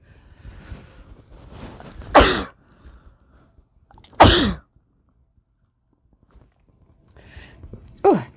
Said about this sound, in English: amplified by sneezing there, like double sneeze there we have